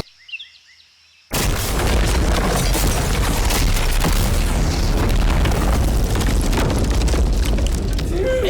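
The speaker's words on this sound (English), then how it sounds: "before we blow up this car" A bomb blast destroys a car, starting with a sudden loud boom after a short quiet lead-in, then a long, dense roar of debris and rumble that holds at full loudness to the end.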